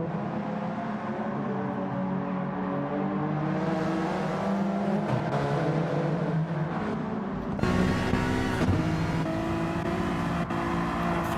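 Race cars, including a Honda NSX and Alfa Romeo 4Cs, battle for second place on a wet circuit in a GT championship round, their engines droning and rising steadily throughout, with a louder surge as cars pass close.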